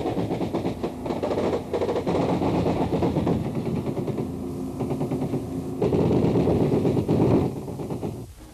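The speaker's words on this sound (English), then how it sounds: "The bark of Chinese Communist AK-47s comes from the left bank." Bursts of AK-47 rifle fire from a riverbank in wartime Vietnam, a dense rattling clatter that rises and falls over several seconds, somewhat distant and continuous, with no talk.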